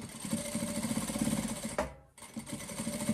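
A sewing machine runs steadily, stitching along the very edge of a slightly sticky fabric for a hooded blanket, with a rapid mechanical whir that pauses briefly midway and then resumes close by.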